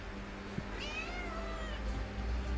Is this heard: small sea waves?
no